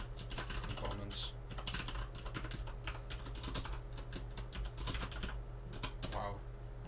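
Rapid, steady typing on a computer keyboard while coding, with dense clusters of keystroke clicks running continuously through the whole stretch and a low hum underneath.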